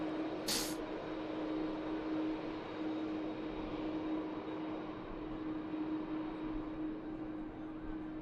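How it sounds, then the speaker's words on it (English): A Gulf Air Boeing 787 Dreamliner on its take-off roll at Manchester Airport, heard as a steady, distant broadband jet roar with a low hum throughout, no talk over it. "Gulf Air Dreamliner next out. On the roll."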